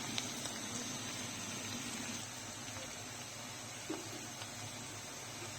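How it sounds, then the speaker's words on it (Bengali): Cinnamon and garam masala frying in hot oil for a dried-fish and jackfruit-seed curry give a steady, soft, quiet hiss that runs evenly throughout, with a faint bump near the end. "এখন ভালো করে তেলের সাথে ভেজে নিচ্ছি।"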